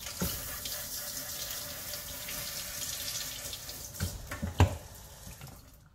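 Water runs steadily from a tap into a sink as something is rinsed under it, a continuous splashing rush with a few sharper splatters near the end before it cuts off.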